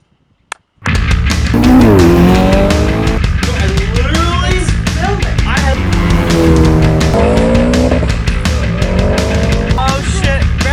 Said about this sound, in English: Oh shit, rally car!